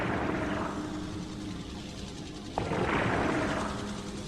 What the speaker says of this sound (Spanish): Escuchaste helicópteros y los disparos de los francotiradores